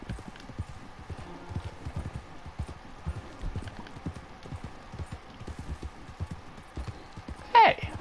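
Horse hooves clip-clopping in a video game, a steady rhythmic series of hoof strikes on a hard surface throughout, with a brief whinny near the end.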